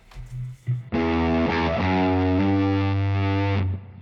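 A bass runs through a Big Muff fuzz with its tone turned up, paired in parallel with an almost clean Tube Screamer on a Fractal Axe-FX. It plays one loud, thick, buzzing distorted note that sustains for nearly three seconds and then cuts off, with no talking.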